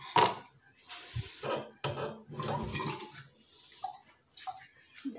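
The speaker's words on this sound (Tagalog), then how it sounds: "Dagan natin ng" Water pours and splashes in short bursts into a container while a caretaker prepares a nasogastric tube feeding at home, with soft clinks of dishes and utensils between pours, heard close.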